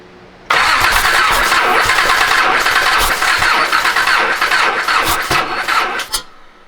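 A built Nissan 300ZX engine cranks on a first start attempt, a loud, close, continuous churning of the starter that runs for about six seconds without clearly catching, then cuts off abruptly.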